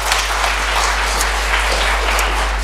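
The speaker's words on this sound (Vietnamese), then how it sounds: "Hãy vỗ tay cảm tạ Đức Chúa Trời một lần nữa nào." A church congregation claps in thanks to God during a Protestant service, a loud, continuous wash of many hands close by, with no voices over it.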